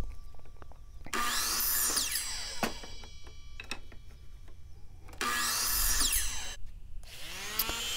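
Saw cutting wooden 2x3 ladder rungs to 16-inch lengths, with two loud bursts of whining cutting separated by quieter knocks and handling sounds of the boards.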